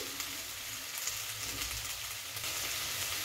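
Fish fat for a Bengali chochchori fries in a pan with a steady, dense sizzle and crackle, close and constant throughout with no voice.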